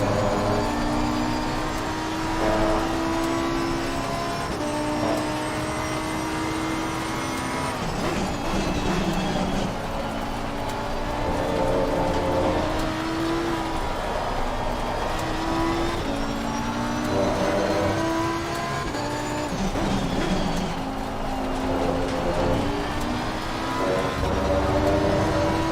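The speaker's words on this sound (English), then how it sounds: "Why can I hear loads of rattling? Like there's loads of gravel stuck in the car." Continuous mechanical rattling and rumbling, like loose gravel shaking inside a moving race car in a racing video game at the Valencia circuit, steady and loud throughout with clacking tones.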